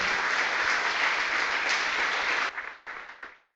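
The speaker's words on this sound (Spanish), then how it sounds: "Denle un aplauso al Señor, porque Él merece la gloria y la honra" A church congregation breaks into dense, sustained applause that holds steady for a couple of seconds, then thins into a few scattered claps and fades out.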